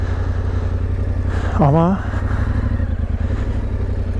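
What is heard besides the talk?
motorcycle engine running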